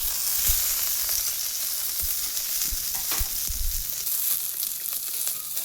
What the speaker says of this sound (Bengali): দিয়ে দেব কেটে রাখা ঢ্যাঁড়সগুলো, দিয়ে সামান্য নেড়ে চেড়ে